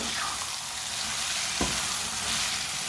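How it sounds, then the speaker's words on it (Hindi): Spiced tinda (apple gourd) curry frying in a pan, a steady close sizzle and crackle throughout with one soft stir or knock partway, no talking. "1 मिनट के लिए मैंने दोबारा भून लिया।"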